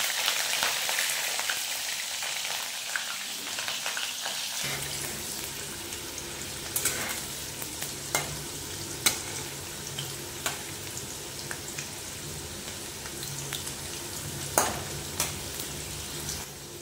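Capsicum drops into hot oil in a pan where beans were just fried. A steady, close sizzle bursts up suddenly and keeps going, dotted with clinks and scrapes of stirring.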